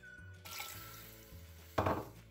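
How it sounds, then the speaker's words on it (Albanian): Water poured from a cup into a cooking pot holding risoni pasta for a spinach and egg lunch, a steady close splash in two bursts, the second louder and brief, with no talking. "Shtojmë 2 filxhan çaj me ujë."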